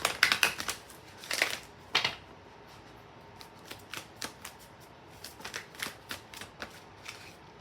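Tarot cards being shuffled by hand at close range, with quick papery riffles and taps in irregular bursts, louder at the start and then a looser run of lighter flicks, with no talking.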